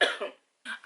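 A person who is sick coughs twice close up, a loud burst followed by a brief pause and then a shorter second cough, with no talking.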